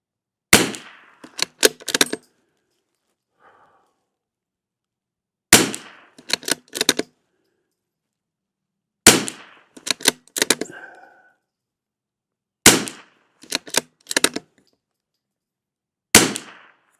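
Rifle shots firing CCI standard velocity ammunition, loud sharp reports arriving in five tight clusters of three to four rapid shots each, separated by pauses of a few seconds.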